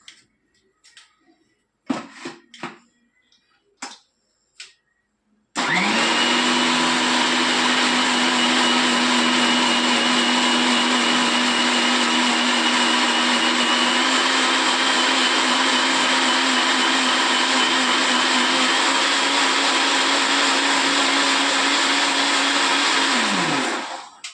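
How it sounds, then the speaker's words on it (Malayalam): Some light knocks and clicks come first, then a mixer grinder starts, grinding coconut into a paste with a loud steady whirring roar for nearly twenty seconds before winding down abruptly. "അപ്പോൾ നമുക്കിതേ മിക്സിയിലൊന്ന് നല്ല പേസ്റ്റ് പരുവത്തിൽ അരച്ചെടുക്കാം"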